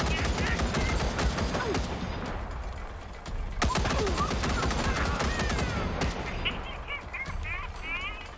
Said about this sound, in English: Okay, so we'll take two shots